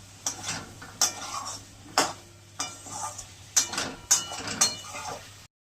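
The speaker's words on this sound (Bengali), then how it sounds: "অল্প সজনে ডাঁটাগুলো একটু কষিয়ে নেবো" Drumstick stalks sauté in a pan for shukto, with a rhythmic series of sharp metal spatula scrapes and clinks against the pan over a light sizzle.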